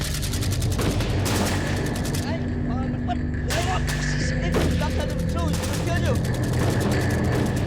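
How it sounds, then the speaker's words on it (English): Gunfire bursts crackle through a loud, continuous, busy scene, with shots layered over a steady noisy background and no speech heard. "Stop shooting!"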